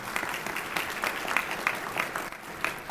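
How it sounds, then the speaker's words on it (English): Audience applause at an attainable housing summit, a steady wash of clapping from a crowd lasting a few seconds at moderate level, with no talking over it. "you clap for that."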